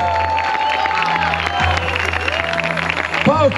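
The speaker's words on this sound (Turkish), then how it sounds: "Kocaman alkış istiyorum." An audience at a trail race award ceremony claps and cheers in a dense, steady wash, with an announcer's amplified voice speaking over the crowd throughout.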